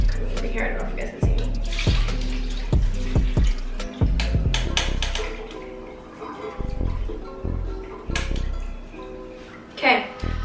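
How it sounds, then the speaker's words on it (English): Water is strained out of soaked rice for horchata, giving splashing pours and drips with intermittent clinks and knocks in a kitchen. A person talks in between. "you're going to strain all the water out of the rice"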